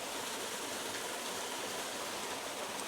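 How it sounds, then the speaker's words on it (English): A small waterfall near the Fairy Bridge in Glen Creran pours and flows away in a steady, close, broadband rush of water, continuous and even throughout with no voices. "I've got the wee waterfall coming down and then flowing out to the right"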